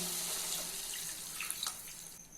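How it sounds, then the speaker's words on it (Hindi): Two cups of water poured into mutton curry in a pot, a continuous close splashing rush over a hissing background, with a few brief drips near the end. "और अभी इसमें 2 कप पानी ऐड कर लेना है"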